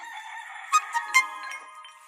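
A rooster crows faintly in the background, a short series of calls set against steady ambient birdsong and chirping.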